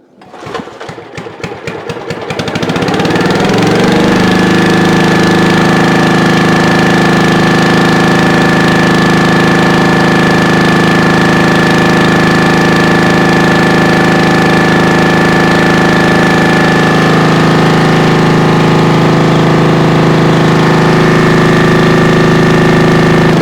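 A gasoline engine on a log splitter catches after a few sputtering pulls, then settles into a steady, loud, continuous run for about twenty seconds, with no talking.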